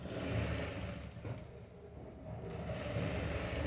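A sewing machine runs steadily while stitching a princess-cut, boat-neck blouse, a continuous mechanical whir that dips briefly in the middle and then picks up again, close and fairly quiet, with no talking.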